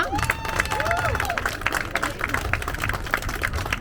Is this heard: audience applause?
yes